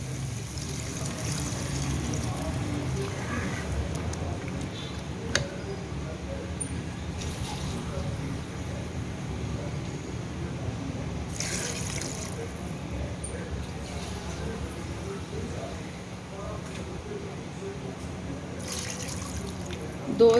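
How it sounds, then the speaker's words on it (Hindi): Water is poured into a pot of arbi gosht, a taro and meat curry, after the meat has been fried. It makes a steady splashing trickle that runs for about twenty seconds, with a few soft clinks. "अब मैं इसमें पानी ऐड कर दूंगी।"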